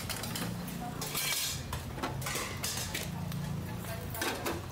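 A street food cook in the Philippines clatters pots and pans at a busy stall, with repeated metallic clanks and scrapes of cookware and utensils in quick irregular bursts over a low background hum.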